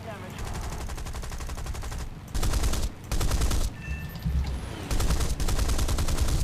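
Rapid bursts of aircraft cannon fire from War Thunder, British Hispano cannons on a B-25, loud repeated volleys with short pauses between them, a few separated by brief quieter gaps.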